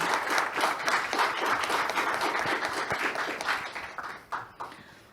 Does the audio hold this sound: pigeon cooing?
no